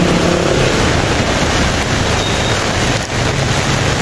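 Heavy rain pours down in a dense, steady roar that soaks everything, a loud continuous wash with no gaps and no voices.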